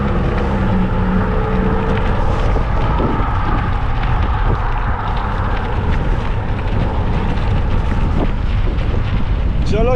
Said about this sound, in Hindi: हवा चल रही है थोड़ी थोड़ी